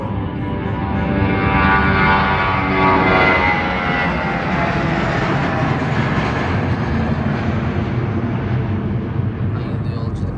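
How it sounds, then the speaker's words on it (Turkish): Loud, steady roar of a jet airplane engine as the aircraft departs, with some talk faintly under it. "Uçak yarım saatten fazla oldu geleli ve gidiyor."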